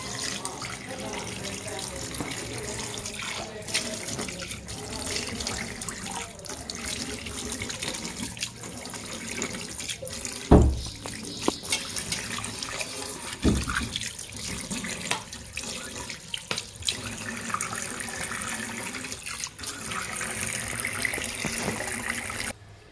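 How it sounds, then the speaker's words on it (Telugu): Tap water runs continuously while a hand wash sink is rinsed clean in a kitchen, a steady splashing gush with a few clunks partway through, and a voice talks over it. "ఇప్పుడైతే కడిగేస్తాం నీళ్ళతో."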